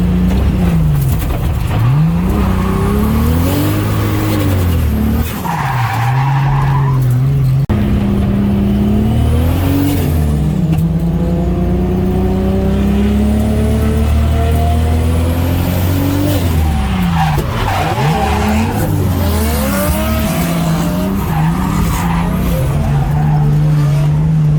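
A drift car tears around Adams Motorsports Park, its engine wailing up and down through repeated revs with long tyre squeals and skids, loud and close throughout, no voices.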